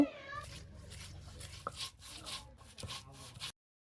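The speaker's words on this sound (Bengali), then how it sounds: "হুটকিগুলো দিয়ে এখন ভালো করে বেটে নিব।" Fried dried fish (shutki) is ground with onion and garlic in a rustic home kitchen, giving close rhythmic rasping and rubbing strokes. A brief high whining cry opens the clip, and the sound stops abruptly near the end.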